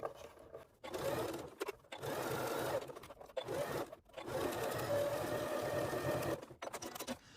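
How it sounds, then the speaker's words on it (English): Sewing machine stitching an outer bag to its lining for a padded camera lens case, running in several bursts of steady rapid whirring separated by short pauses, close and clear. "just stitch our outer bag to our lining bag"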